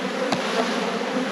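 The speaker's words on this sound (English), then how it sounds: "A little bit grumpy, this hive." Honey bees swarm around an open hive during an inspection, a dense, steady close-up buzz with one bee zipping past loudly near the microphone.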